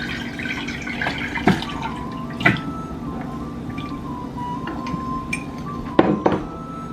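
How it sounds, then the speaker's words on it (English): Homemade Skooma drink strained out of a jar: liquid drips and trickles, broken by a few clinks and splashes from the jar, close and moderately loud, with no speech. "now we just gotta drain it out, strain it out, and then serve it to him"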